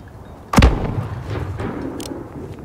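A single sharp, loud gunshot cracks in Call of Duty: Modern Warfare during a sniper mission on a highway, then trails off into a rumbling echo with a few fainter pops after it.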